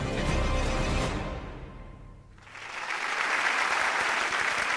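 Studio audience on the Vietnamese game show Chiếc nón kỳ diệu bursts into applause, loud clapping fading briefly then swelling back up to a full, steady roar.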